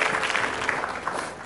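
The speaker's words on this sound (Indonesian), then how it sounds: "Tepuk tangan untuk Mbak TJ" Studio audience on an Indonesian TV game show clapping in a brief, dense burst, a steady wash of many hands at moderate level with no clear voices.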